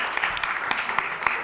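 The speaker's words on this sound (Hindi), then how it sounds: "तो जोरदार तालियां मैम के लिए।" A short spell of audience clapping at a school talent show, fairly faint with a few sharper individual claps standing out.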